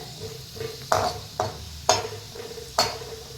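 Onions fry in a pan with a soft, steady sizzle while a spoon scrapes and knocks against the metal in four or five sharp strokes. The sound is close and has no talk.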